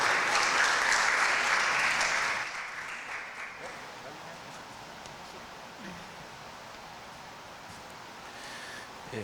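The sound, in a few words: audience applause welcoming a lecturer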